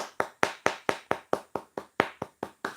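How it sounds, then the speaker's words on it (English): Sharp, regular hand claps, about a dozen in quick succession at an even rhythm, close and clear with nothing else around them. "Let's give him a round of applause for the attempt."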